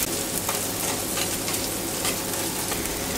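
Garlic butter sizzles and fries steadily on a hot plancha griddle, a dense even crackle with faint stirring, moderately loud and uninterrupted, no voices.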